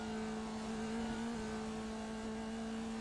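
A race car engine in the iRacing sim holds a steady, droning tone after a missed gear change drops it into neutral, loud and continuous for a few seconds with no voices.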